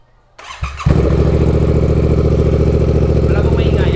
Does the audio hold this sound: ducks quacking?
no